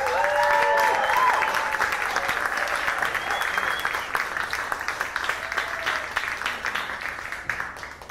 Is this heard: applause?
yes